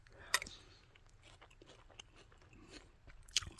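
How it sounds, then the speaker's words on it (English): Close, quiet chewing of soggy Lucky Charms frosted toasted oat cereal with marshmallows, soft wet mastication broken by a couple of sharper crunchy bites. "It has like a sugary crystal crunch texture"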